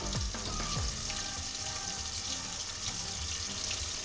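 Salt and pepper spare ribs deep frying in hot oil, a dense continuous bubbling hiss throughout, close and steady, with a few low knocks early on from pieces being turned.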